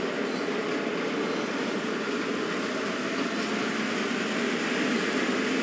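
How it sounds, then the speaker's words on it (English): Steady, broadband diesel locomotive engine drone from Train Sim World 2, throttling up under load, holding a continuous even roar for several seconds with no talk. "And I can hear the engine settling down and throttle on."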